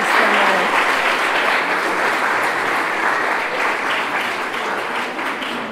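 Strong, sustained applause from an audience after a lecture on Johannes Kepler, many hands clapping together in a dense wash that slowly tapers off over several seconds.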